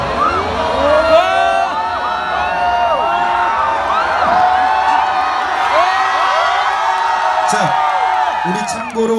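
A concert crowd in the second-floor left section of a show at Hallym University shouts and cheers in a loud, sustained roar of many voices.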